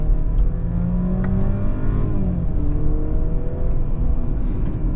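A Mercedes-Benz GLC 300 compact SUV with its engine running steadily and a low rumbling drone, plus a few faint clicks as manual mode is switched off.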